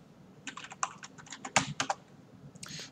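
Fingers type login credentials on a computer keyboard, giving a quick, irregular run of crisp key clicks close to the microphone, followed by a short pause and a final burst of keystrokes.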